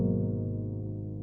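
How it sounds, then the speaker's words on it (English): A sustained keyboard chord pitched three semitones down, held as one steady tone-rich block with no breaks, for an Amapiano beat. "I consolidated it and then pitched it to 3 semitones down."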